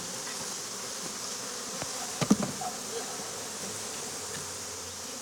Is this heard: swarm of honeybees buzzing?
yes